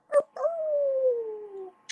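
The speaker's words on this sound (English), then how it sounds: "Look at that dog right there." A dog lets out a short yip and then one long, clear howl that slides downward in pitch and fades out, loud and close.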